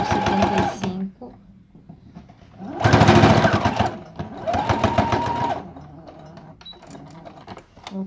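A sewing machine stitching bias binding onto a fabric pencil case in short bursts of whirring, a brief run then two longer ones, with someone speaking between them.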